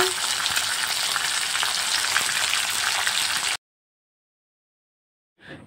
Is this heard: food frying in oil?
yes